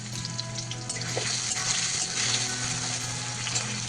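Potatoes frying in a pan until reddish give a soft, steady sizzle with a faint hiss and a low hum beneath it; no voices.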